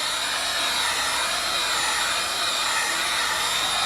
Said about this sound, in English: I always like to just hit a little bit of the heat from the heat gun